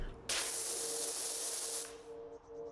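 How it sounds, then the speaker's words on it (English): A pressure washer in the video game PowerWash Simulator 2 sprays in one loud, steady hiss lasting over a second and a half, then cuts off, leaving faint background sound. "the point of the game is the spray sound"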